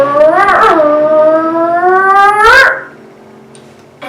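A voice imitates a revving race car engine, a sustained rising and falling vroom lasting nearly three seconds, close and loud, then a quiet pause.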